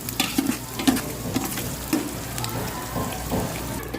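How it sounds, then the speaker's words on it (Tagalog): Fatty pork pieces browning in a pan, a steady close sizzle with stirring and scraping clinks over a low hum, no talk. "Ipa-brownish natin yung medyo magtaba."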